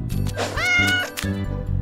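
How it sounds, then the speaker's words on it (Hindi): A cat meows with a drawn-out, rising-and-falling cry over a steady low background hum, close and fairly loud. "ये तो प्यारी सी बिल्ली है।"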